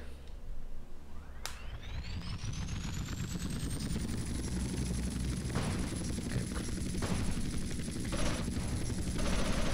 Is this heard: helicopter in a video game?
yes